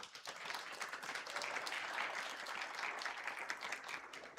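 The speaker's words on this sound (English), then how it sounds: "please help me give another round of applause to our presenters today" A room full of people applauding, dense continuous clapping that holds steady for several seconds.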